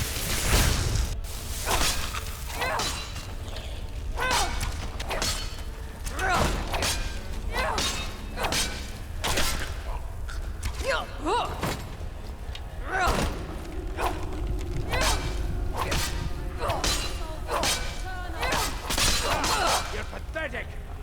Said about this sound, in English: Who's shooting these arrows?